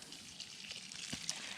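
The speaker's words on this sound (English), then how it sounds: "Austin found another water hose." A garden water hose sprays in a steady hissing rush outdoors near someone working on a Honda motorbike, with a few small splashes and knocks over the top and no voices.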